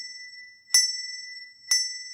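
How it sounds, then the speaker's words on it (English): A handbell rung six-in-hand, the thumb bell swinging forward and pivoting around the pinky bell, strikes twice about a second apart, each bright clear strike blooming over a steady sustained ring, close and alone. "the thumb bell is going to ring forward, and it's pivoting around this pinky bell"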